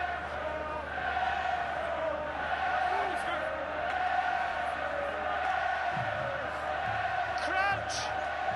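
A packed sellout crowd of about 9,000 Leinster rugby fans at the RDS in Dublin during the 2017 Amlin Challenge Cup final fills the stadium with a steady roar. Scattered shouts rise above it and commentary runs over the top.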